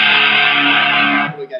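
Joyo British Sound guitar pedal set for tight heavy metal distortion with scooped mids, one sustained chord ringing loud for over a second and then cut off sharply.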